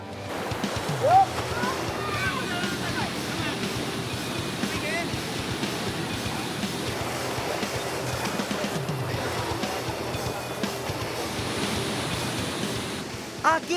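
Timbulun waterfall rushing, a broad continuous roar of falling water filling the scene at steady loudness, with outdoor wind noise mixed in and no clear talk over it.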